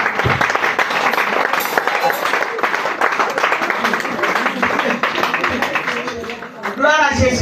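A church seminar audience applauds steadily in a large room, a dense wash of clapping and cheering, with a voice calling out over it near the end.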